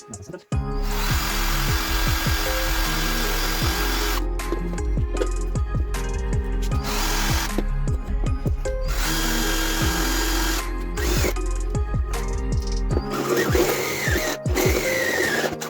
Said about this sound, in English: step drill just came from China